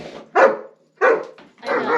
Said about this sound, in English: They're gonna start barking the moment that I talk.